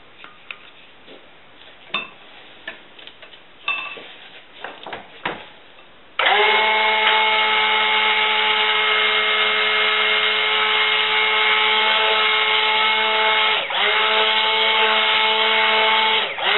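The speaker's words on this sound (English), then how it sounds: "I'm going to stick blend it a bit" A stick blender mixing oatmeal lavender rosemary soap batter, first a few light knocks and clinks, then a loud steady electric whine that runs unbroken for about ten seconds with a brief dip.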